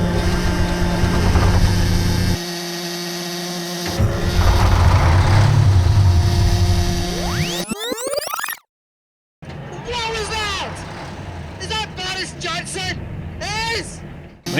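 Peterbilt 359 truck with a 12V71 diesel engine, a barn find just started, running with a loud, steady rough rumble that cuts out briefly, then continues under a voice talking near.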